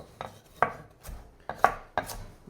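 Rough-cutting carrots and celery with a chef's knife on a cutting board for chicken stock, a handful of sharp, close chops in an uneven rhythm, with no talking.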